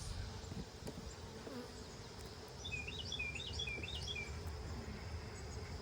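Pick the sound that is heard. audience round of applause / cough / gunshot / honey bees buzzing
honey bees buzzing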